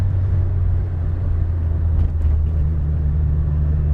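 A Mitsubishi Evo VI with a stock-frame turbo drives on a back road, its engine a loud, steady low rumble throughout with slight shifts in tone, no voices over it.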